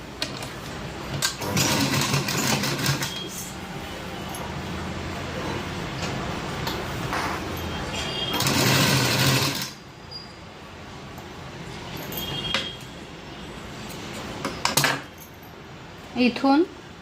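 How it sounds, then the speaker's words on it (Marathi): Sewing machine running bursts while stitching the final seam of a gown's side pocket, with mechanical whirring that stops and starts alongside faint ticks and handling clicks. "जे मधल्या 7 इंचाला आपण आता फायनल शिलाई असते ती मारून घेऊया."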